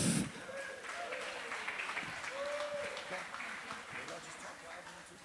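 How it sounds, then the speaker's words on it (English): Wedding guests clapping for the couple at a reception at The Rockleigh in New Jersey, a sustained wash of applause from the room with a few whoops and voices mixed in. "Once again, round of applause for Andrea and Jeff"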